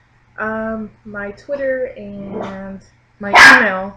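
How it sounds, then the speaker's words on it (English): A pet dog barks and yips excitedly several times in quick succession close by, over a person talking. "That's my dog. He's going crazy."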